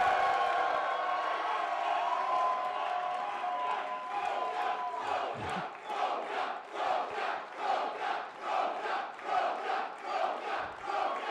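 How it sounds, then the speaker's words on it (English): A live crowd at a Schmoedown trivia competition event cheers and shouts, settling into a pulsing rhythmic chant of many voices, loud and roomy. "The crowd loves it, Ken."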